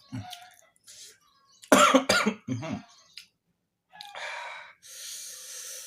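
A few sharp, harsh coughs close by after choking on spicy chicken rica-rica, separated by short silences, followed by rough breathy gasps and some scraping noise.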